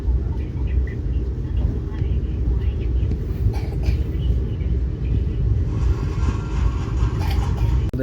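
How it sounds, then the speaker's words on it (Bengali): A train rolling into Ujjain Junction, a continuous heavy low rumble with clattering undertones, loud and close throughout, with voices talking over it. "ট্রেন এখন ঢুকছে উজ্জয়ন জাংশন।"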